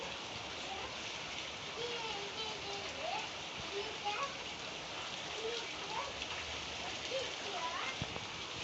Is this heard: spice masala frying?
no